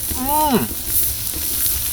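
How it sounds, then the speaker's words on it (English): Steady loud sizzling of smash burger patties with pork belly frying on a hot griddle, with a brief voice speaking over the hiss at the start. "Ooh, you hear that sizzle?"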